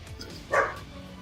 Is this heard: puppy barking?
yes